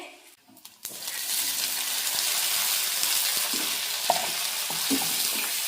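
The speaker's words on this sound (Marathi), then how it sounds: "पहिलं तर कांदा मस्त शिजलाय आता आता टोमॅटो टाकून घेते" Onion and tomato fry in a hot pan, a steady, close sizzle that starts after a quieter moment and continues throughout, with occasional soft clinks and stirring scrapes.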